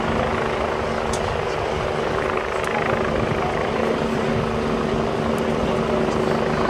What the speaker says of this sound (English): Right now, Lifeline's making their final approach and will be landing.